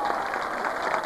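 A crowd at a folkrace event gives a quiet, distant round of applause, a steady soft patter of many hands that continues without a break.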